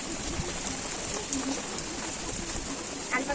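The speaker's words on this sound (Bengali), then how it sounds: "প্রচন্ড ঝড় হচ্ছে" Heavy rain from Cyclone Remal pours down in a dense, continuous hiss, with scattered drops and knocks on nearby surfaces during the storm.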